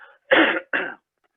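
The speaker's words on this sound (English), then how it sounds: "I'm just going to cough for a second, excuse me." Two short, sharp coughs close up, the first louder than the second, preceded by a faint breathy sound and followed by silence.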